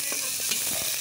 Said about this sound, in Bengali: চিকেনের কালার চেঞ্জ হয়ে আসা পর্যন্ত এটাকে ভেজে নিতে হবে